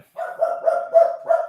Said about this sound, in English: there goes my usual dog interruption.